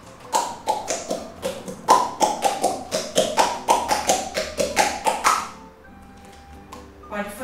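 Mouth pock percussion, a rapid steady run of about twenty sharp, close pops whose pitch slides up and down as the mouth shape changes, followed by a softer pause and a quick flurry at the end.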